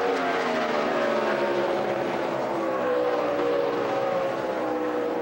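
NASCAR stock cars race at Pocono in the 2011 Good Sam RV Insurance 500, giving a continuous loud engine roar with shifting pitch as cars pass in a close pack, with no voice heard.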